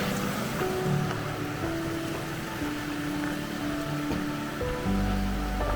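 Clear water flows through Lydford Gorge with a steady, close rushing wash that holds even from start to finish, with no voices over it.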